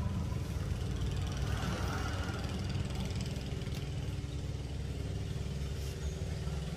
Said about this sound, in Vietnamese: bây giờ em mời cả nhà nghe tiếng máy nổ nè.